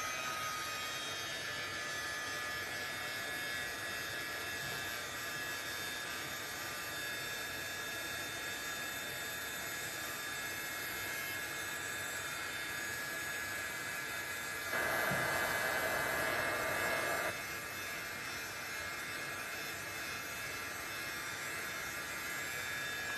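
A heat tool blows with a steady, whining hum while melting embossing powder for stamping, holding at moderate level and briefly growing louder partway through, with no talk.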